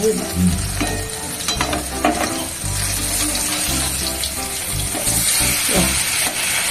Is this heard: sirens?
no